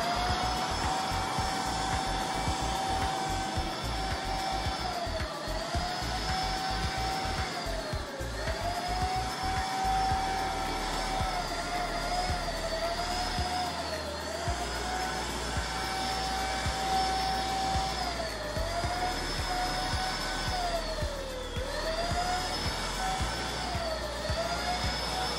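A powerful electric paint spray gun runs continuously with a loud, steady whine and airy roar that dips briefly in pitch every few seconds as the trigger or load changes, close up with no talk.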